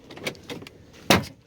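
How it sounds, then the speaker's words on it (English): The door of a 2003 Ford F150 XLT extended cab pickup makes an odd noise: a few soft clicks and rustles, then one sharp, louder clunk near the end, close by. "the door has a weird noise"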